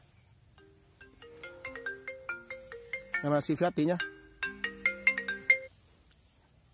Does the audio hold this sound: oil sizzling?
no